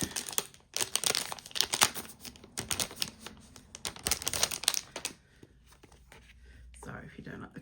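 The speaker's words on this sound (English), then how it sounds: "Sorry if you don't like the crinkling noises." Plastic wrapping crinkles and crackles in dense close bursts while a Sterling Ink A5 planner with a mulberry cover is unboxed, then fades to quieter handling near the end.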